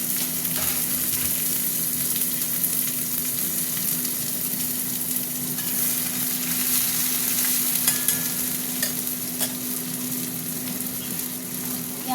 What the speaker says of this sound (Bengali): তেল গরম হয়ে গেছে, একটা শুকনো লঙ্কা দিয়ে দিলাম, আর দিয়ে দেবো পেঁয়াজ।